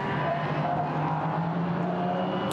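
Porsche Cayman GT4 race cars at the Nürburgring during a GT4 European Series race, a continuous loud engine roar from several cars blending into a dense, sustained drone with no break and no voices.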